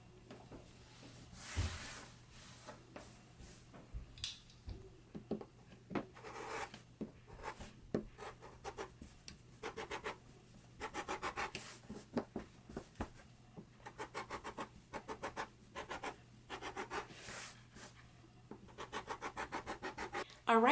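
Scissors trim the seam allowance on a sewn waistband facing of a jumpsuit, giving a run of close, crisp snipping and scratchy cuts in short irregular bursts, with no talking.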